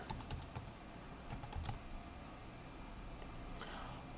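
Computer keyboard typing folder names for a Premiere Pro project, a quiet run of quick clicky keystrokes in short bursts, close-miked with no talking.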